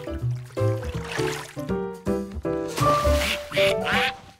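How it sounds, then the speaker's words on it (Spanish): Cartoon ducks quack in a busy rhythmic series of loud, nasal calls, close and overlapping, with light watery splashing underneath. "¡Patos!"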